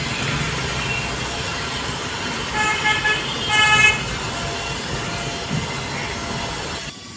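Steady road traffic rumbles and hisses throughout on a Mumbai street near Byculla, with a few car horns tooting in the middle, moderately close.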